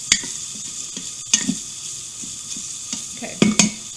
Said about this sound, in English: Gonna stir this around now because it doesn't take long for this sausage to brown.